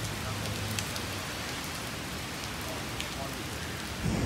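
Light drizzle falls on a street in Balestier, a steady soft hiss of fine rain with scattered faint drops, heard alone at an even level.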